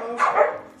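A single short, sharp bark from a dog, a Chow Chow at a Melbourne kennel, close and fairly loud.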